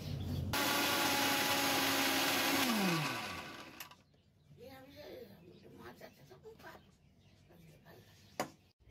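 Ginger, coriander, cumin and green chilli are ground for cooking greens, a loud steady mechanical whir that winds down after about three seconds, followed by faint rubbing and handling noises.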